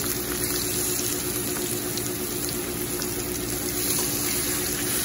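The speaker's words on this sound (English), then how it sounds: "And now we're going to sear in a very hot oil." Flour-coated short ribs searing in very hot oil, a steady broadband sizzle and crackle that stays loud and even throughout, with no talk.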